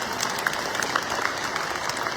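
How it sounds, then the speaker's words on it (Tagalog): An audience at a youth ceremony claps steadily for volunteers, a dense wash of applause from a crowd that holds at an even level throughout. "palakpakan natin sila."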